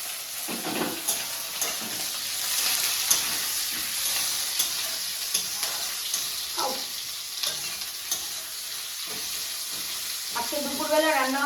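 Garlic and green chili fry in a cooking pot, giving a steady close sizzle with occasional stirring scrapes, while voices talk faintly nearby.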